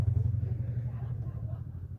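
Steady low road rumble from car traffic on a highway, heard from inside a Honda City, a continuous engine and tyre drone with no clear passing peaks.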